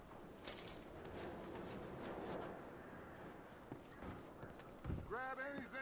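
Horses walk in Red Dead Redemption 2 with soft, irregular hoof clops under a steady outdoor ambience, followed near the end by someone speaking.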